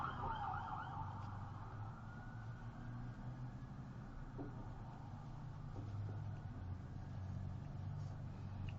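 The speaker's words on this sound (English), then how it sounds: "Sorry for the sirens." Emergency vehicle sirens wail outside in a big city, a steady, moderately distant rising-and-falling tone carried over constant low traffic rumble for the whole stretch, with no talking.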